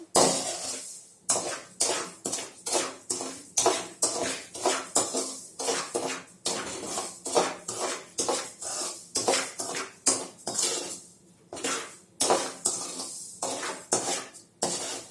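Semolina dry-roasting in a pan for mutton rava upma over a raised flame, heard as a steady run of rapid ladle scrapes and metallic clinks against the vessel, close and fairly loud, with no talking.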